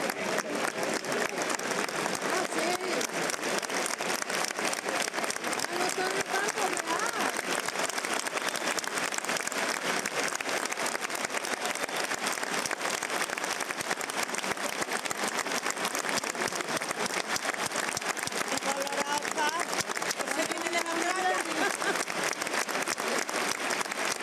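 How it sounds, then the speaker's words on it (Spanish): A packed crowd at the Maestranza bullring in Seville gives a standing ovation on Easter Sunday, with dense, sustained applause rolling on steadily and loudly throughout, no pauses or talk. "Vean esa emotiva ovación ayer en Sevilla"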